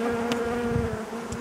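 Honeybees buzz around an open hive in a close, steady hum with tonal drone, individual bees flitting near and away, no voices.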